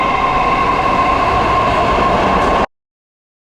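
Subway train running at Kirovsky Zavod metro station in Saint Petersburg, a loud steady rumble with a sustained tonal whine for about two and a half seconds before cutting off abruptly into silence.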